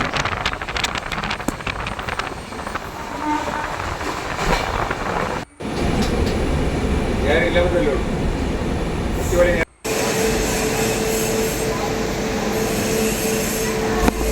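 From inside a carriage of the Island Express bound for Thiruvananthapuram, Kerala, in light rain, the train rumbles along steadily, wheels clattering and squealing faintly on the rails, with a couple of brief dropouts.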